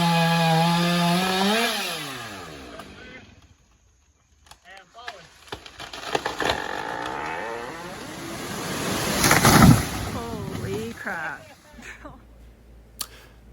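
A chainsaw cuts into a large tree during felling, the engine revving high and bogging under load, then idling and revving again with cracking wood, loud and close throughout.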